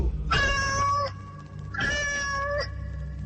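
A black cat meows twice, each call long, clear and close, with a short pause between them over a steady low hum.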